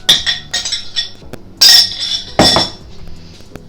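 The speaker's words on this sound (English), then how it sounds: "And just mix everything all together." A spoon clinks and scrapes against a mixing bowl while oaty apple muffin batter is stirred together, giving irregular close bright knocks with a few louder strikes and short pauses, and no voice.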